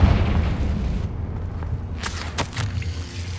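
A Confringo fire-blast spell goes off in the Hogwarts Legacy video game, a deep rumbling boom with crackling bursts over a dense low background roar.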